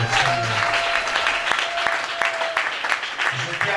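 A church congregation applauds during a Sunday service, dense clapping throughout, with a voice speaking over it at the start and again near the end.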